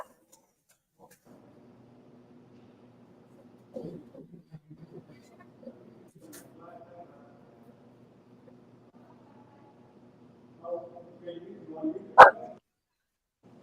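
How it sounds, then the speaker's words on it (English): Dogs growl and bark intermittently at close range, faint low rumbles rising to louder barks near the end, mixed with people talking. "we having a doggy growling competition with Snow"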